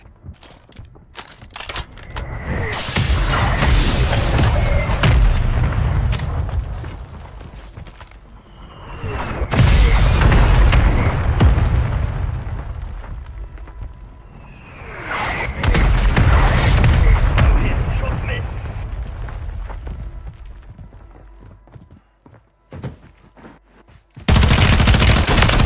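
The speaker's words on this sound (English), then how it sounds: "Fire mission. Target marked. Copy your mark. Mortar strike inbound." Mortar strike explosions in Call of Duty Warzone come as three big waves of booming blasts, each one swelling loud with a deep rumble and debris crackle and then fading before the next. Scattered gunfire is heard in between.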